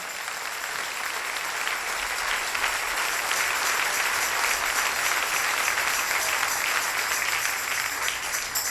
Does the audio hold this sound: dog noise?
no